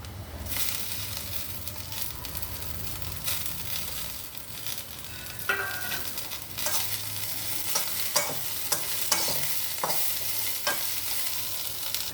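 Taro root chips fry in a pan with a continuous sizzle while a spoon scrapes and stirs them in repeated strokes, close and moderately loud, with several sharp clacks of utensil on the pan.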